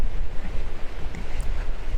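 Strong wind roars and buffets the microphone outdoors in continuous, gusty rumbling, with no other clear sounds above it.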